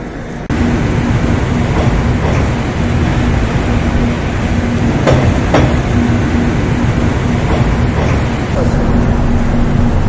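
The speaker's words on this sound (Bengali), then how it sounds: "কাশী গঙ্গার উপর দিয়ে আমাদের ট্রেন যাচ্ছে" The Doon Express crosses the Ganga bridge at Kashi, giving a loud, steady rumbling roar from inside the carriage with a faint hum and occasional clanks throughout.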